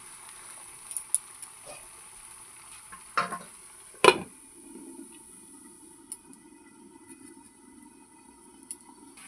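Pangas fish curry in a pan, stirred with a few sharp utensil knocks and clinks over a faint low simmering sizzle, close by with no talk.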